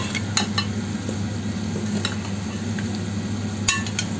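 Chopped onions tossed by hand with salt and chili flakes, a soft continuous stirring and rustling with a few light clicks of utensils against a bowl, close and steady, no talking.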